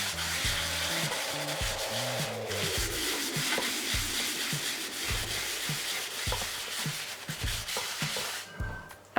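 A cloth rubs a tiny drop of oil around the surface of a restored cast iron BoothMac pan, making a continuous close scraping and swishing with repeated rhythmic strokes and occasional knocks.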